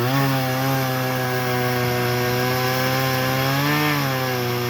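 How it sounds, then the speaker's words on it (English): A chainsaw, its blade worn, cuts into a tree branch with a loud, continuous buzzing whine up close, pitch wavering slightly as it bears down through the wood, with no talk. "Should have bought a new chainsaw blade."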